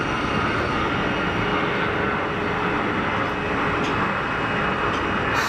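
An Airbus A320 departs Geneva Airport on a heavily derated, quiet takeoff, a steady, moderate broadband engine rumble and hiss that holds throughout without much change.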